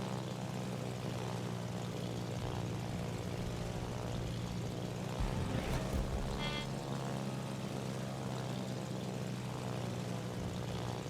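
Propeller aircraft engines drone steadily and loudly throughout in World of Warships, a continuous mechanical hum with no talk over it.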